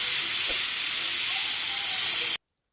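A pressure cooker on a stove at medium flame, cooking beef curry, lets out a loud, steady steam hiss that runs evenly for about two seconds and then cuts off abruptly.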